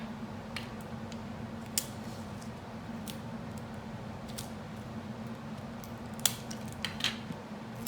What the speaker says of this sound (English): you can take your scissors and you can trim off any extra tape that's hanging over the sides